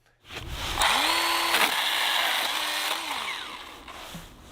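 A battery-powered chainsaw whirs up to a steady high-pitched electric whine, holding loud and close for about four seconds with slight dips in speed before easing off.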